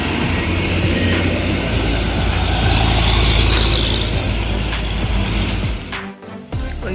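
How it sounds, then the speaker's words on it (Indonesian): A convoy of trucks rolls past on a road, a loud, steady low rumble of heavy engines and tyres up close, dipping briefly near the end as a gap opens between vehicles. "Rombongan truk."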